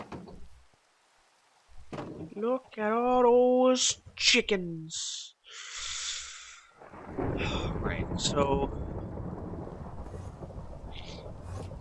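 Rain falls with a steady hiss in the Minecraft SkyFactory video game, a low rumble of thunder building late on, while someone talks at the start and game noises pop in between.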